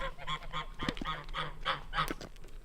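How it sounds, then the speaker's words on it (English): Geese in a garden give a rapid series of nasal honks, several overlapping calls in quick succession at moderate distance, with no talk. "Let's see if the geese like snails."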